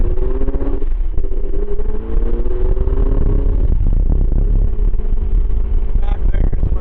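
A 2008 Lamborghini Murcielago LP640 V12 heard from inside the cabin while driving, a loud, steady engine drone with shifting pitch as it pulls, and a brief higher note near the end.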